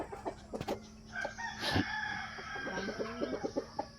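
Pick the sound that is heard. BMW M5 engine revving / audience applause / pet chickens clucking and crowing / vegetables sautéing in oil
pet chickens clucking and crowing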